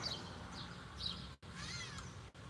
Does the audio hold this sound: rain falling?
no